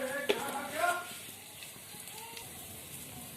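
Turmeric fries in hot oil in a pan, giving a soft, steady sizzle with a few brief louder crackles near the start, then settling into a quiet, even hiss.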